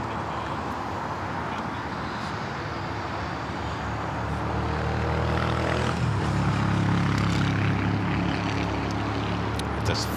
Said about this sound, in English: American flight to Charlotte now rolling down at 25 right.